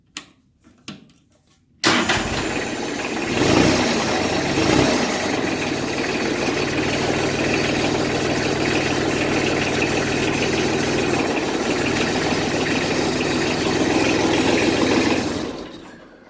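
A Kubota L295DT tractor diesel engine with a knock starts after a few faint clicks, then runs steadily with a loud, rough, vibrating clatter up close for about fourteen seconds before cutting off.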